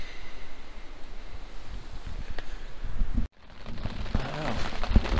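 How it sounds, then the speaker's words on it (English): Rain falls outdoors at a hunting camp in New Zealand, a steady soft patter mixed with wind noise and rustling, broken by a brief drop in sound midway, with no talking. "It's raining."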